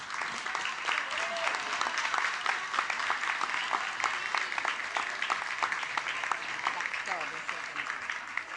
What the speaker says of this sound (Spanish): que es Fanny Mandelbaum, para quien pido un gran aplauso